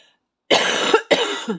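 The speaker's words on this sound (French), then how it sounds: "Je tousse avant la vidéo, comme ça," Two harsh coughs in quick succession, loud and close, with a short gap between them.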